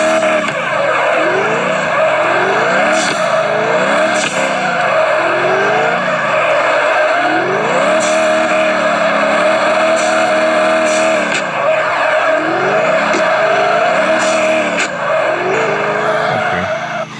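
A car in a parking video game drifts in drift mode with continuous loud tire squeal and engine whine. The pitch rises and falls through repeated slides over many seconds, and nobody talks.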